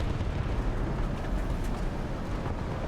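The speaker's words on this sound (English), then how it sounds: "I also call artillery." A sustained, rumbling roar of artillery explosions in a tank battle video game, dense and low with no clear separate blasts, loud throughout.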